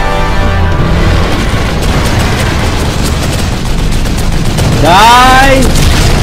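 Gunshots from a handgun in the survival horror game The Evil Within, heavy and booming over a constant dark ambient drone, with a rising tonal sweep near the end.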